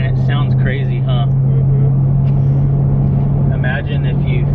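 A stock 2018 Jeep Trackhawk's engine drones steadily and loudly from inside the cabin while driving, a deep constant hum under continuous road noise with people talking over it.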